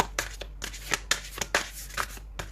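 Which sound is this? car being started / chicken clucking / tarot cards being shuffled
tarot cards being shuffled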